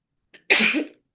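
A single sharp sneeze right after drinking water, preceded by a brief small intake of breath, close and loud against silence.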